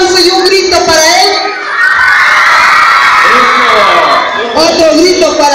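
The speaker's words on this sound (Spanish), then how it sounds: "Un aplauso y un grito para él." A group of children at a lively kids' show applaud and shout loudly for a performer, with cheering, whoops and overlapping young voices throughout and a brief dip in the middle.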